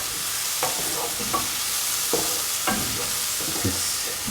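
Mushroom stew ingredients, with ash gourd and coconut milk, sauté in a pan, giving a steady close sizzle broken by a few sharp scraping strokes of the stirring spoon.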